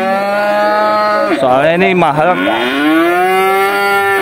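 At a livestock market, cattle being sold as sacrificial animals give a long, loud, close moo that rises and bends in pitch, with a brief spoken phrase at the start.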